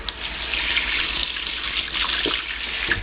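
Water runs steadily from a kitchen tap to wet hands before stuffing pasta shells, a continuous close hiss and splash with no talking.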